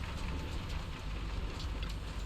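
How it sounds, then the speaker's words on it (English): Steady rain falls in an outdoor scene of the video game Zenless Zone Zero, a dense, even hiss of drops that holds at a constant level throughout with no voices over it. "I didn't expect it to be raining here"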